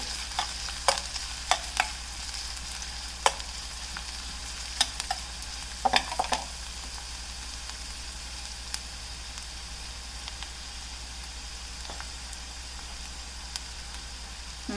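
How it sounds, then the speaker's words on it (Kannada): Onions and green chillies fry in hot oil for an egg and green gram dish, a steady sizzle with sharp scraping clicks of stirring scattered through the first half, no voices. "ಎಣ್ಣೆ ಬಿಸಿಯಾಗಿದೆ ಇವಾಗ ನಾನು ಈರುಳ್ಳಿ ಹಾಕ್ತಾಯಿದ್ದೀನಿ ಮತ್ತು ಹಸಿರು ಮೆಣಸಿನ್ಕಾಯಿ ಹಾಕ್ತಾಯಿದ್ದೀನಿ ಸ್ವಲ್ಪ ಫ್ರೈ ಮಾಡಿ"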